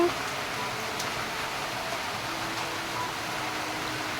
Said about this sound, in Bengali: আজকে সকাল থেকে বৃষ্টি শুরু হয়েছে